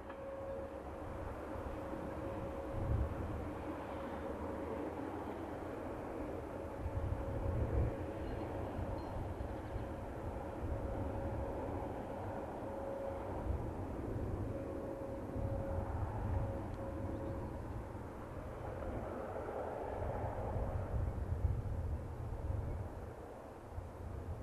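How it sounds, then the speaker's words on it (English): A Montreux Oberland Bernois GE44 electric locomotive hauls the Golden Pass Panoramic train uphill toward Montreux, a steady low rumble and hum rolling on throughout with a faint sustained tone and no voices. "One of the railway's GE44 locomotives climbs up the hill with the 1250 Golden Pass Panoramic service to Montreux"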